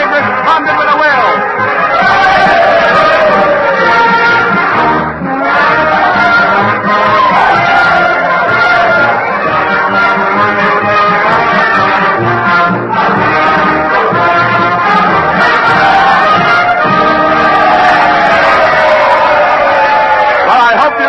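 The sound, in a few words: cheering crowd din in radio drama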